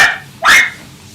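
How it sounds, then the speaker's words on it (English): A dog at a grooming salon gives a short faint yip, then one louder, sharper bark close by, with brief quiet around it. "Sorry about the barking for those of you with headphones."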